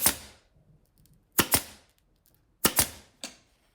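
Staple gun driving staples through a hook strip into a board for a no-sew Roman shade return: four sharp snapping shots, in two closely spaced pairs, loud and near against quiet.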